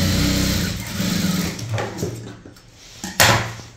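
Sewing machine stitching a blouse sleeve, a steady mechanical whir with a rapid needle rhythm that runs through, dips midway and ends with a brief louder burst, close and alone.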